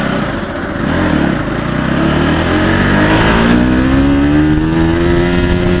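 A Bajaj Pulsar 200 NS BS4 motorcycle accelerates hard through the gears, the engine note loud and close, rising in pitch with a brief dip at a gear change before climbing steadily again.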